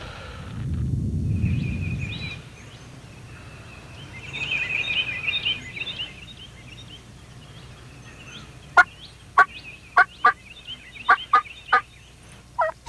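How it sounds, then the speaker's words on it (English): Wild Osceola turkeys gobble from a roost nearby, first as a faint call and then as a quick run of about eight sharp, loud gobbles in the open spring woods. "old turkeys were roosted right up here behind us and gobbling and gobbling"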